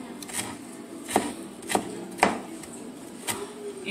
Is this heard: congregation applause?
no